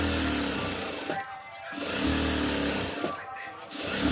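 A sewing machine stitches fabric that is pulled front and back, running in loud rapid bursts broken by two short pauses, with a voice talking at times.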